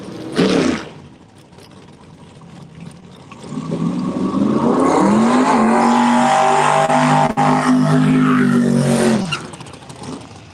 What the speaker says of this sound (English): This car usually set up to run quarter mile, been 240 miles an hour in a quarter. Let's see what he can do in an 8.